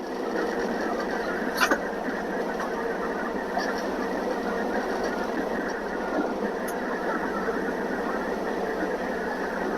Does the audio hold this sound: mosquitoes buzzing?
no